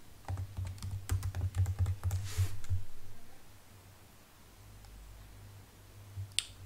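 Computer keyboard typing in a quiet room, a quick burst of soft key clicks over a low steady hum, fading to near silence and ending with a sharp click.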